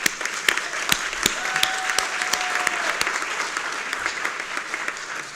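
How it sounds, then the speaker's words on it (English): Applause from a graduation audience at Clark Atlanta University's school of social work, honoring the institution's founders: steady dense clapping with a few sharper individual claps, moderately loud and continuous throughout. "let us give them a round of applause"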